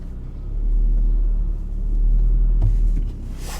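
A car strains to pull out, its engine a low rumble that swells twice under light throttle, heard from inside with no talking.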